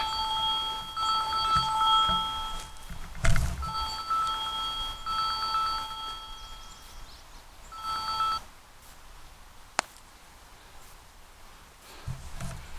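A phone rings in repeated electronic trilling bursts, loud and close, with brief pauses between rings and light rustling in the background.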